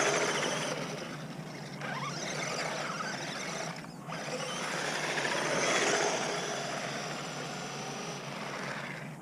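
A GPTOYS McGruff 926 RC truck runs at high speed, its electric motor giving a steady, loud whine that swells and fades slightly as it passes by, with no voices.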